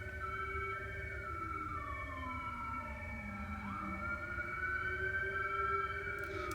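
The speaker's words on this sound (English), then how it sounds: "Sorry if the sirens are cutting through the noise here." Several emergency sirens wail at once, their pitches sweeping up and down and overlapping, steady and fairly loud over a low background rumble.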